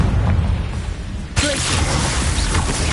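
A blasting-spell explosion in Hogwarts Legacy, the fantasy video game: a quiet stretch gives way to a sudden loud boom that spreads into a sustained crackling roar for the rest of the moment.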